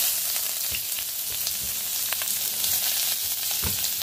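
Grated ginger, garlic and onion fry in hot oil with a bay leaf, a close, steady crackling sizzle with occasional stirring scrapes and pops, and no voices.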